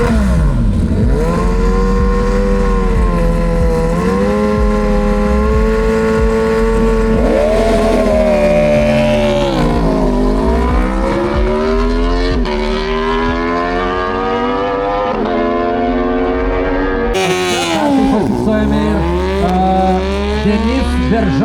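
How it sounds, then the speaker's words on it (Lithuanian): Aprilia RSV4RR liter-class motorcycle with 194 horsepower racing at full throttle during qualifying, its engine screaming loud and continuous with rising and falling revs through gear changes, joined by other race vehicles nearby. "Maksimas Babenko, Aprilyje, RSV4RR, litrinis motociklas."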